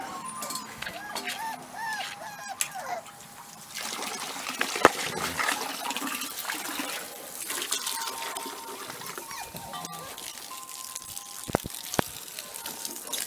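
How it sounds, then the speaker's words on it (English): Water runs and trickles into a puppy's water container during morning chores with Australian Cattle Dog puppies, a steady nearby stream with scattered clanks and knocks, growing a little louder partway through. "I'm cleaning it out, and I'll get this water going here"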